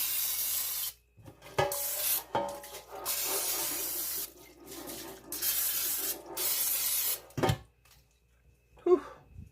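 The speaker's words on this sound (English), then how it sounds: "so I'm going to spray the loaf pan" Cooking spray hisses into a loaf pan in several bursts of roughly one to two seconds each, loud and close, separated by brief pauses, with some light handling noise near the end.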